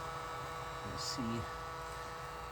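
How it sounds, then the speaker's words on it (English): A heat gun on its low setting, clamped to a workbench, blows air through a motorcycle fuel tank, giving a faint, steady hum and airy whoosh with a brief voice partway through. "right now I have clamped to my workbench a heat gun, and I'm just blowing it through the tank"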